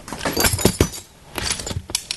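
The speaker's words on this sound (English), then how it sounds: "Once you're done smashing the glass, you have your frame like this." A glass pane is knocked out of a wooden window frame, with a few sharp breaking and clinking hits of glass close by, separated by brief pauses.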